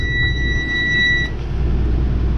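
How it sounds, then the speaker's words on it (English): A bus's low air pressure warning alarm: a loud, steady two-tone electronic alarm sounds for about a second, then cuts off, leaving a low rumbling engine drone. "Do you hear how loud that alarm is?"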